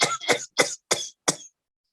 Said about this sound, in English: It's called pertussoid coughs.